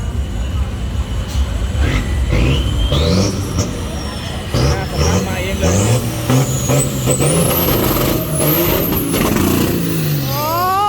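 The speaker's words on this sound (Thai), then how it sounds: "รถออกแล้วออกครับ" Racing cars launch at a drag race, loud engines roaring and climbing through rising revs one after another, with voices and crowd noise mixed in throughout.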